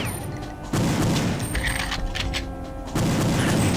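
Gunfire in the Perfect Dark N64 shooter, firing across the whole clip with two louder, fuller bursts standing out, the shots dense and crackling against a busy game backdrop.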